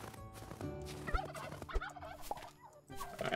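A chicken clucks and gobbles in the farming tavern video game Travellers Rest, a few quick throaty calls over a soft game music bed.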